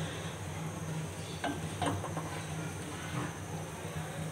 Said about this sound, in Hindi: और इसको हम सही से भूनेंगे। तकरीबन 10 मिनट तक हम भूनेंगे।